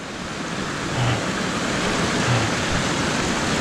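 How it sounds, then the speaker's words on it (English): Runoff from a rainstorm rushes down Hagador Canyon as a steady, loud broadband roar of flowing water, close by and unbroken, with no voices. "Water is coming down right here."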